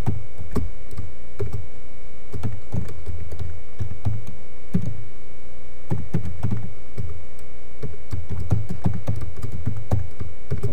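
Typing on a computer keyboard, a steady run of irregular key clicks at close range with no talking, as someone enters account details on a sign-in page.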